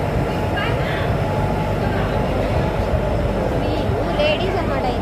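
Low rumbling of a train at Nagarsol railway station, a steady heavy rolling drone with faint higher squeals, near and continuous.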